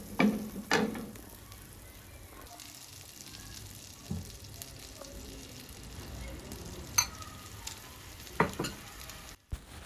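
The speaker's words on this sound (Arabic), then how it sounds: "وغادي نشحر فيهم الكالامار" Steady sizzling of calamari frying in butter and oil in a pan, a continuous crackling hiss with occasional clinks and scrapes of a utensil.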